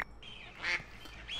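A duck in a modded video game quacks twice in quick succession, fairly close and clear over a quiet background.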